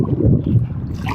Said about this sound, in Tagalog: Malakas ang hangin, alon-alon ang dagat oh.